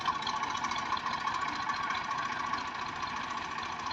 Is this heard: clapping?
no